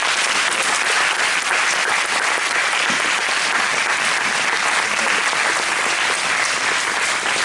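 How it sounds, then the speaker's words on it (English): Sustained applause from a crowd honouring a Brazil mission team, dense and loud throughout, with steady even clapping and no pause. "Let's give them a round of applause."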